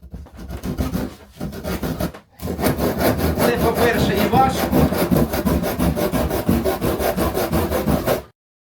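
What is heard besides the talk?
hand saw cutting wood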